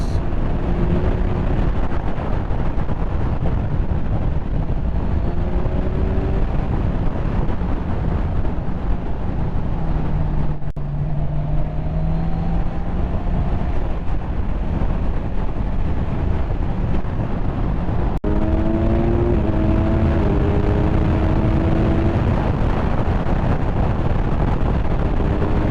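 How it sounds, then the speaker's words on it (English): Steady, loud wind buffeting and turbulence roar while riding a Kawasaki 1000SX sports tourer at speed, a constant rushing wash broken by a few brief engine note shifts, with no talk over it. "my biggest gripe is the wind turbulence"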